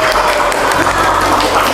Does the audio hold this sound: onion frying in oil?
no